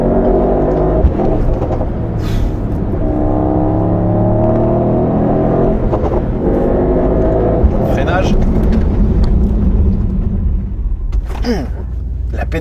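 A 2024 Mercedes-AMG GT 63 Coupe with a 9-speed automatic accelerates through its gears, a loud engine drone rising in pitch with audible shift steps, heard from inside the car under steady French commentary.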